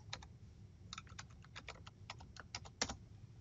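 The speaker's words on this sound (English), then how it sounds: "use my trick to type some random text" Someone types random text on a computer keyboard while working in Microsoft 365 and Windows Explorer, giving a quick run of light, close key clicks in uneven bursts with no talking.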